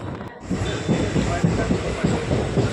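A train approaching Howrah rumbles along steadily, wheels clacking in a regular rhythm throughout, heard from inside a carriage with no speech.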